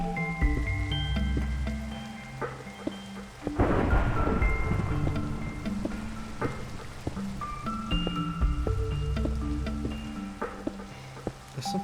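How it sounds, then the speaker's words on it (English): A Minecraft Skyblock thunderstorm with steady rain pattering and a loud crack of thunder rolling into a rumble early on, set against background game music, with no talking. "No, but I'd love to watch thunderstorms roll in."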